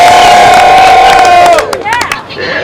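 A team of producers shouts and whoops together as loudly as they can, a sustained crowd yell that breaks into ragged cheering and scattered cries before trailing off.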